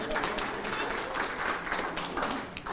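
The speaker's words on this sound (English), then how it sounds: "can we have another round of applause?" An audience applauds with steady, dense clapping that continues evenly throughout, fairly quiet and without a break.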